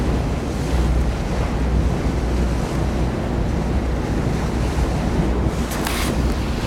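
A luxury yacht cruises the Bosphorus in Istanbul, carried by a loud, steady rush of water and wind buffeting the microphone, with no voices.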